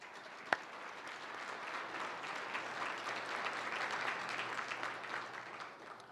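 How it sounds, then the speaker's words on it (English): Warm applause from an audience at a City Club forum, soft and somewhat distant, steady clapping throughout after a single sharp knock near the start. "Please join me in a warm round of applause for all of them."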